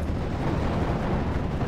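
Heavy Nebelwerfer or Panzerwerfer rocket barrage impacting a forest in the WWII strategy game Steel Division: Normandy 44, a sustained deep rumbling roar of loud explosions blending into one continuous low blast with no talk.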